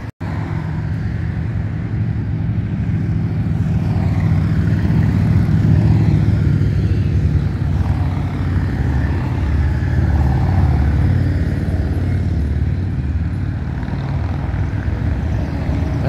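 Steady stream of cars and other vehicles rolling past in a motorcycle toy run procession in Port Alberni, a continuous loud low engine rumble and road roar with no break, close by and without talk.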